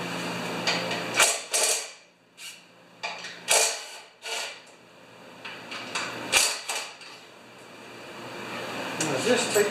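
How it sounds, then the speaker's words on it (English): Bolts come out of a John Deere TRS 24 snow thrower as it is split apart, giving several sharp metallic clanks and creaking ratchet turns in separate bursts, close by, with stretches of quieter handling between them. "Now we're going to take these bolts out that separate the machine."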